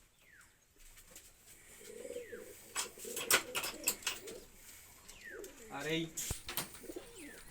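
A male Rajshahi Giribaz pigeon coos nearby in repeated low, throaty rolls, with a few higher bird calls and a voice speaking over them.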